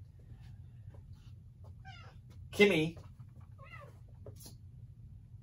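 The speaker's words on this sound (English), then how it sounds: "And that's my cat. Sorry, my cat is going to interrupt the video." A pet cat lets out a loud meow at close range over a steady low indoor hum, and someone speaks a single word briefly just before it.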